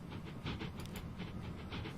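A train pulling in during a Transport Fever 2 game, with steady clickety-clack rolling and a soft hiss running throughout at a moderate, continuous level, alone without talk.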